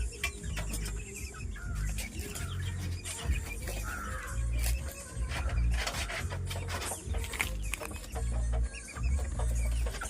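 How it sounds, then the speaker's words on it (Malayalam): A native spotted hen clucks with her chicks inside a coop. Soft, repeated clucks come in irregular bursts at a low level over a dull background. "നാടൻ ഒരു പുള്ളിപ്പെടയാണ്."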